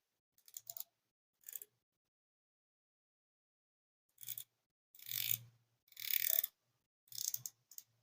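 Screw-down crown of a Ratio FreeDiver GMT RTF061 automatic dive watch being turned, giving a few short, close, crisp mechanical clicks and ratcheting bursts separated by silent pauses.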